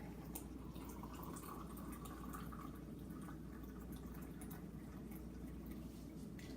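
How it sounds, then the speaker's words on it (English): Hot water pours steadily into a tea steeping sack for lemon rooibos, giving a soft, continuous trickle and splash against low background noise. "So now I'm just going to add my hot water."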